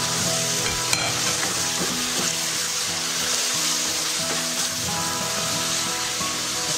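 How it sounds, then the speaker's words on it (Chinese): Eggplant, sauce and chopped chili are stir-fried in a wok with a steady close sizzle, while a spatula scrapes and clinks against the metal in an irregular rhythm, and no one talks. "倒入料汁和茄子， 撒入小米椒，继续翻炒。"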